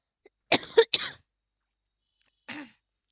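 Two quick, sharp coughs close together, followed by a pause and a single softer cough, in an otherwise quiet room.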